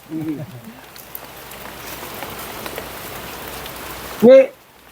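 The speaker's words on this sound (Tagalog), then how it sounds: "Ulan pa po." Steady rain falls on a surface throughout, a dense even patter with a brief loud burst near the end, and a few faint voices can be heard early on.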